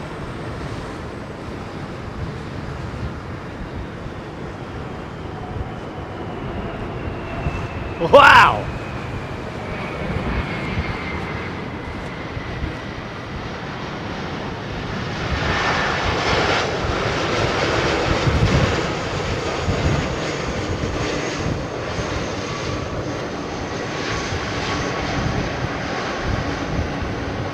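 A Boeing 747-400 airliner at London Heathrow roars past in a long, loud engine rumble, with wind buffeting the microphone, a sharp burst partway through, and a voice briefly exclaiming.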